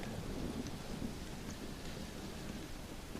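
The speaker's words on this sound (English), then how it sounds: "Well, it's just the storm, John." A steady thunderstorm wash from the Undead Nightmare video game, with constant hissing rain and low rumbling underneath, faint and unbroken throughout.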